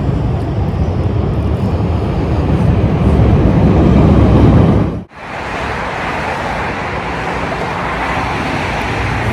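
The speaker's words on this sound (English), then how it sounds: "It's a little loud out here at this train station" Dense, loud roar of a Chicago train station, a broad steady wash of machinery and rumbling noise that cuts out abruptly halfway, then resumes slightly quieter, with no talk heard.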